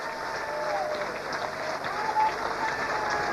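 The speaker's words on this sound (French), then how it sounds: "Si tu l'aimes, acclame Jésus fort, fort, fortement" A church congregation claps and cheers in acclaim of Jesus, a sustained wash of applause from a crowd in a large hall, steady and moderately loud throughout.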